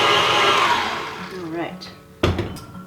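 An electric mixer gives a loud steady whir as it beats thick orange cranberry quick bread batter in a bowl. It fades toward the end, and then a sharp clatter follows.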